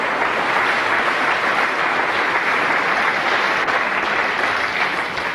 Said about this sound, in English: I thought that deserved a little round of applause